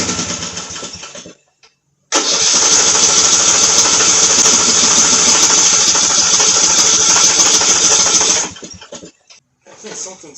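Vintage Murray riding lawnmower engine running with the choke fully up: a loud, steady buzzing, rattling drone that starts abruptly after a brief silence, holds for about six seconds, then cuts off into sputtering.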